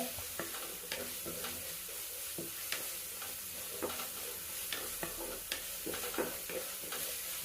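Chopped onion and crushed garlic fry in a pan for a fish stew, a soft, constant sizzle broken by irregular scraping stirs and light utensil knocks against the pan.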